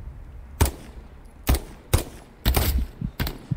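Bursts of gunfire in the World War II shooter Hell Let Loose, five sharp loud shots spaced unevenly over a few seconds, some doubled, against quiet game ambience.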